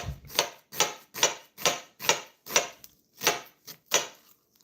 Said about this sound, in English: So I gave it 3 slits down in the side, and I just want to come this way